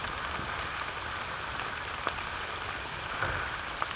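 Steady rain falls outdoors during mushroom foraging, a continuous broadband hiss of drops on surfaces with a few sharper isolated patters, no voices.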